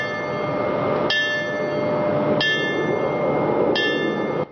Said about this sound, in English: The final alarm, 3 rounds of 5 bells.